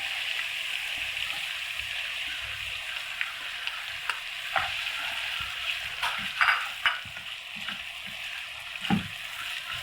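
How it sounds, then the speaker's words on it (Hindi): Chicken frying in a pan with sautéed garlic and ginger, a steady bright sizzle with intermittent louder crackles and stirring clacks, close and without talk. "अब हम इसमें चिकन डालेंगे।"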